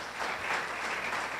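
A congregation at a Bible study applauds for a brief moment, with steady, dense clapping and no voices over it.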